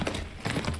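Horse hooves pound in a steady galloping rhythm in the horse-riding video game Tales of Rein Ravine, with repeated muffled thuds over a dense, constant background wash.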